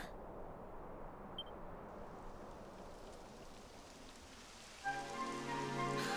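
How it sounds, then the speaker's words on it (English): Steady rain falls in Dragon Quest XI S, a soft continuous hiss of drops spread evenly throughout, with a brighter musical or ambient layer entering near the end; no voices. "It would have to go and start raining, wouldn't it?"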